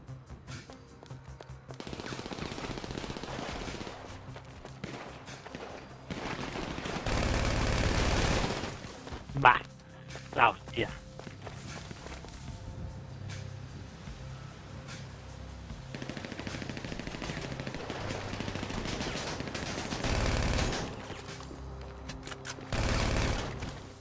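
Machine gun fire in GTA Online comes in repeated rattling bursts, some loud and close, separated by quieter stretches of game noise. Two sharp louder shots cut in near the middle.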